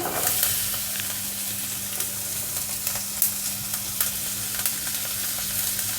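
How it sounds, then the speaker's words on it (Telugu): Onion pieces frying in butter in a pan make a steady, close sizzle with occasional crackles and soft stirring scrapes, continuous and free of talk. "కొద్దిగా బటర్లో వెల్లిపాయ ముక్కలను ఫ్రై కానిద్దాము ఉల్లిపాయ ముక్కలు"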